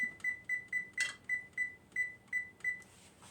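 Kitchen oven timer for a baking apple crisp, sounding about ten short, evenly spaced electronic beeps in quick succession, with a brief clatter partway through and a soft hiss at the end.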